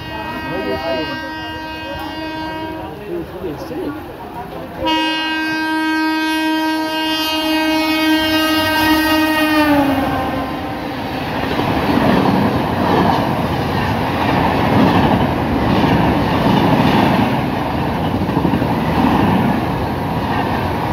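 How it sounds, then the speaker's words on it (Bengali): A loud local train horn blares in a long sustained blast, then the oncoming train rumbles and clatters past up close with a heavy roar. "সামনে থেকে ট্রেন আসছে"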